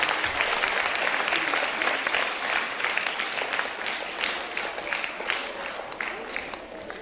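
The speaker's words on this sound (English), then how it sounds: "give them a big round of applause" An audience at a school dance competition award moment gives a long round of applause, dense rapid clapping from many hands that slowly thins and softens toward the end.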